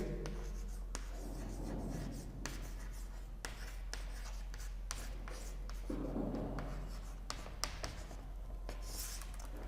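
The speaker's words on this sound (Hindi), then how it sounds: "तो यहाँ पे मैं लिख देता हूं ट्रीटी ऑफ पेरिस।" Chalk or marker writing on a board during a history lecture, with continuous close scratching strokes and sharp taps, steady throughout over a low background hum, with no clear speech.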